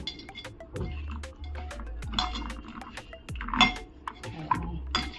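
Spices being mixed by hand into fresh bombil (Bombay duck) fish in a dish: close, soft wet squelching and stirring with intermittent clinks of a utensil or bowl, no talking.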